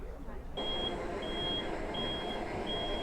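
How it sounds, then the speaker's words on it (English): A loud electronic beep repeats in long, evenly spaced tones over a steady mechanical hum as a Galeon 405 HTS motor yacht's tender garage opens, with a short muffled stretch at the start. "So excuse the slightly loud beeping"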